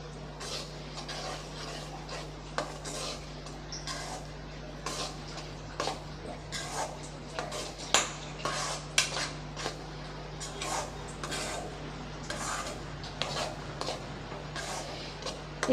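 Repeated scraping and clinking of a spoon stirring a laddu mixture of ground chana dal in a pan, in irregular short strokes at close range and fairly quiet, with no talking.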